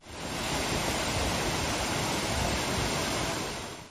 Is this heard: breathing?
no